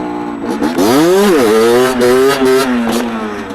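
A 50cc moped engine in stock form revs hard while the rider holds a wheelie, its loud, close whine climbing in pitch, dipping briefly, then rising again as a gear is shifted without the clutch.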